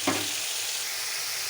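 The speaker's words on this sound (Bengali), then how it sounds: "মশলাটা কষায় শুটকিগুলো দিয়ে দিব।" Salted dried hilsa fish (shutki) dropped into a pan of frying spice paste, giving a brief soft thump and then a steady, close, even sizzle that holds without any talking.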